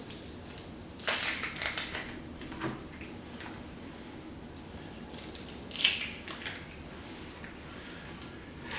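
Sharp knife slicing straight down through an onion on a cutting board, a few quiet crunchy chops spaced irregularly, close but faint, with no voices.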